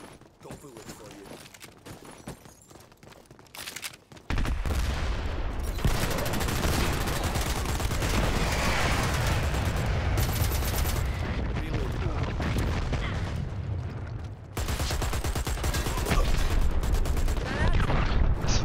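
Dense, continuous gunfire from several weapons in the online shooter Dirty Bomb, sparse at first and then a loud, sustained barrage of rapid shots that runs nearly unbroken, with a voice talking over it.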